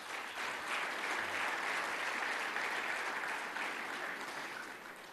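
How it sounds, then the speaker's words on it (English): Steady audience applause at a racing symposium keynote, a broad even wash of clapping from a large room, fairly soft and tapering slightly at the end. "Round of applause."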